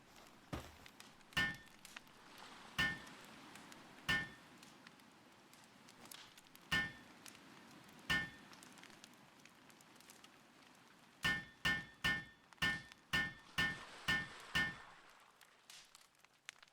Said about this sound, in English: Hammer away here.